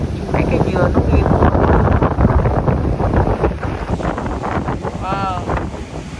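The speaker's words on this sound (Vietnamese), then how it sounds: "It's not cold but it's very windy." Strong wind buffets the microphone on a Florida seaside road lined with leaning coconut palms, a loud, steady roar across the whole stretch, with someone speaking over it.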